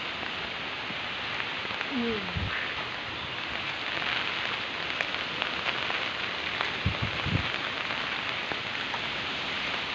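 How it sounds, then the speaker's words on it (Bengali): Heavy rain pours down in Kolkata, a dense, continuous hiss of drops striking surfaces nearby, with a few faint thumps and no one speaking. "দেখুন খুব বৃষ্টি, আমি বৃষ্টিতে দাঁড়িয়ে আছি।"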